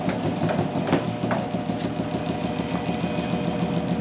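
An induction motor driven by a generator runs as a steady, close mechanical hum with a droning engine-like tone and light vibration, holding fairly even throughout.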